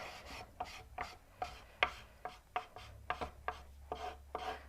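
Paint being scraped onto a small DIY Easter centerpiece piece, a steady series of short dry rasping strokes in an even rhythm, close and fairly quiet.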